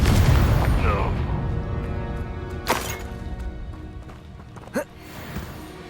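A Confringo spell explosion bursts in the video game Hogwarts Legacy. A heavy boom hits at the start and rumbles away, followed by a couple of sharper crashing hits of game action.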